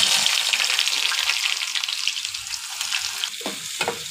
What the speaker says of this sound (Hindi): तब तक मैं प्याज को फ्राई कर लेती हूँ